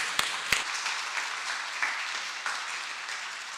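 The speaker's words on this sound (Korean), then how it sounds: "따뜻한 박수로 맞겠습니다" An audience at a Sunday afternoon church service gives warm applause, a soft, steady wash of many hands clapping at a moderate distance, with a couple of sharp knocks at the start.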